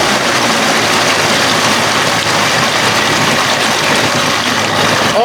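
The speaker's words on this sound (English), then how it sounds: "Sounds like the engine is revving higher, but it's from that prop." A 1992 Johnson 60hp outboard engine revs steadily on a boat, a loud, dense, continuous roar with water and wind noise mixed in, and no voices.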